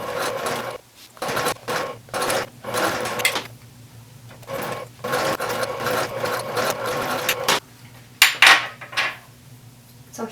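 A sewing machine top stitches a strap in several short bursts of fast rhythmic needle clatter, separated by brief pauses and small handling clicks.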